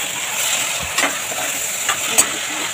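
Chopped tomatoes sauté in a pan for crab masala with a steady hissing sizzle, broken by a few short stirring scrapes and clicks.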